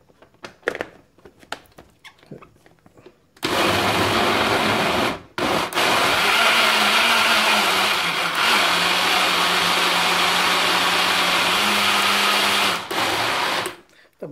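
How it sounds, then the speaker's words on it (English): A Kenwood Blend Extract blender whirs loudly and continuously as it purées mango and banana into a smoothie, briefly cutting out once and stopping near the end. "Kenwood blend extract. Small, tiny, sleek blender, has a lot of power."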